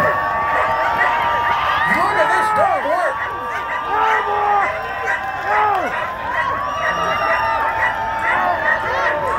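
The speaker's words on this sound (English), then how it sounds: "Let's cheer him on." A crowd cheers and shouts for a dog pulling over 300 pounds at an outdoor winter festival weight pull, with lots of overlapping voices, whoops and children's shouts holding steady throughout.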